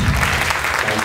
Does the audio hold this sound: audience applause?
yes